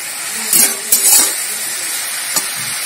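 Radish and shrimp curry being stirred in a pan after salt is added, a constant frying hiss with two or three distinct scrapes of the spatula near the start and one lighter stroke later, close and loud.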